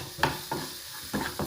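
Spoon strokes stir a spice mix through cumin and green chilies in a frying pan for capsicum curd curry, making a few distinct scraping bursts over a soft, steady sizzle, with no voices.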